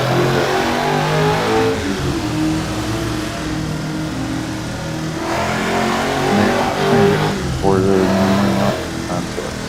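A car engine in a video game revs loudly with rising and falling pitch sweeps and a steady droning tone throughout, while a person talks over it.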